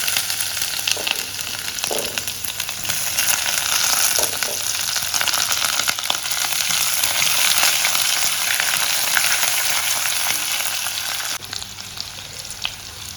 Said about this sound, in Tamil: பட்டை, கிராம்பு எல்லாத்தையும் போட்டு தாளிச்சுக்கலாம். இது நல்லா கொஞ்சம் பொரியட்டும். வெங்காயம் போட்டுக்கலாம்.